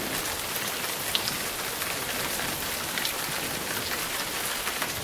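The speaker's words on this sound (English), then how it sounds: "The clouds get heavy and water falls back to the earth in the form of rain," Steady rain falling and pattering on a surface, a dense even hiss of drops with no breaks, close and moderately loud throughout.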